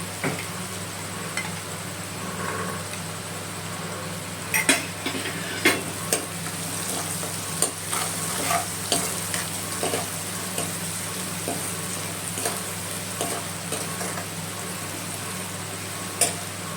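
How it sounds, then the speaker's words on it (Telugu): Onions fry and sizzle in a pan for alasanda curry, a steady crackling hiss broken by regular sharp clinks and scrapes of a spoon stirring, close and ongoing, with no talk. "ఇప్పుడు ఆనియన్స్ కొంచెం మెత్తగా అయినాయి చూడండి, వేగినట్టే."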